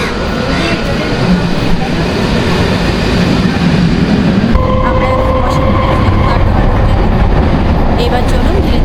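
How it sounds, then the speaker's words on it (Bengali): A Howrah–Kotdwar local train rolls into a railway platform with a loud, close rumble and rattle of wagons, while a public-address announcement and a steady tone sound over the train noise. "Train number 37911 Howrah Kotadwar local is arriving on platform number 3."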